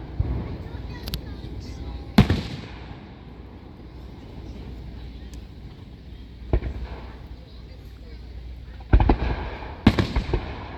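Fourth of July fireworks explode in the distance, a handful of sharp booms and cracks scattered through a low outdoor rumble, with people chatting nearby between the bursts.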